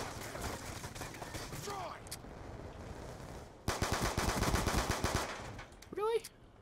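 Rapid automatic fire from the 5.7 in Black Ops 2, a dense burst of close, sharp shots with a quieter stretch of game noise and a brief voice-like sound in between.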